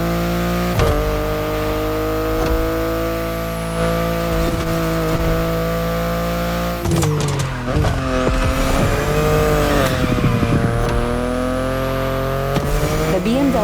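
A BMW i8 races in a Motorfest video game, its engine buzzing steadily with rising and falling pitch through gear changes, joined by tire squeal and a sudden rough burst as it skids, while someone talks over it.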